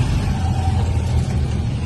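A motorized tricycle in the Philippines, ridden as a passenger: a loud, steady low engine drone with rushing road and wind noise and no pauses.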